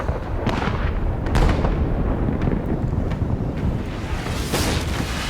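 Cannons fire in a naval battle video game with sailing ships, a dense barrage of booming shots and blasts rolling continuously over a loud rumbling din, with several sharper reports standing out.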